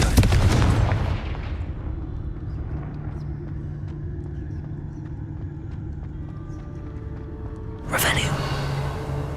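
Confringo blasting spells in the video game Hogwarts Legacy: a loud, broad explosive burst at the start, a quieter rumbling stretch with faint hum, then a second sharp blast near the end.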